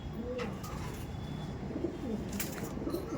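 A pigeon coos softly several times in a row, a flying breed kept for sale by a fancier, calling at close range over a steady background hum with no talk.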